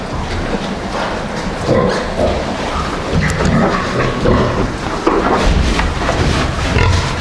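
Small piglets in a pig pen make a busy mix of grunts, squeals and snuffling, with shuffling and movement all the way through at close range.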